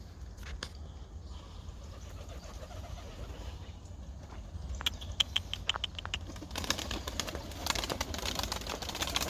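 Sparrows twittering and chirping in quick repeated bursts, growing busier and louder toward the end over a low steady background hum.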